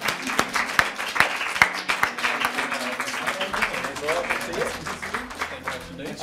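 Applause greets the Outstanding British Film winners at a BAFTA awards press event: sharp, close claps stand out early over a steady bed of audience clapping, then fade as voices and murmuring take over.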